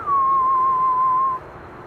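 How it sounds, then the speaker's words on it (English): A geared turbofan on an Airbus A220 or Embraer E2 at Amsterdam Schiphol Airport gives a steady, clear high whistle that holds for about a second and a half, then cuts off, leaving low background rumble. "And that geared turbofan whistle once again."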